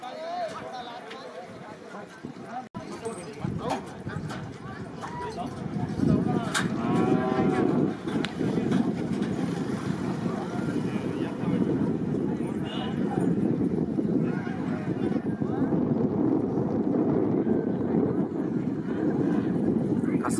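Bullocks gallop in a bullock cart race at a village race ground near Yeola, with pounding hooves and rumbling carts under a crowd's roar. Loud, excited commentary and shouting run through the whole stretch, and occasional moos can be heard.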